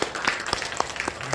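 A church audience claps briefly for an elder, Kim Sang-cheol, producing a short scattering of irregular hand claps at moderate loudness.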